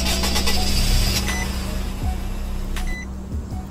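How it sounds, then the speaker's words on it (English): An old Infiniti coupe engine in the video game Greenville starts and idles with a steady low hum, a few short rising revs and mechanical creaks over it, close and fairly loud throughout. "old Infiniti startup"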